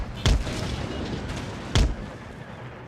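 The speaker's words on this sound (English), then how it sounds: "Let's see if I can destroy the whole thing just with my artillery." Two heavy artillery booms from the video game Empire: Total War, roughly a second and a half apart, each a loud low thump over a steady battlefield rumble.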